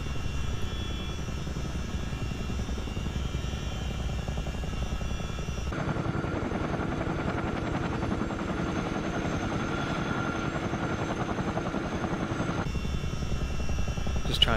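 A Chinook twin-rotor helicopter in a flight simulator game hovers low and slow over a Canadian wildfire, its steady heavy rotor thump and turbine whine running continuously and loud, with the tone shifting partway through.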